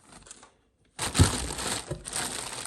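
Packaging on a VF Engineering supercharger kit for a BMW E46 being unwrapped, a brief rustle, a short silence, then a louder crinkling crunch of wrapping handled up close.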